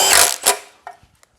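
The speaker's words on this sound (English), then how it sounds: "I just hit it with my little impact" A small impact wrench tightens oil pan gasket bolts on a Honda Accord: a loud buzzy rattling burst for about half a second, then a few faint clicks and taps.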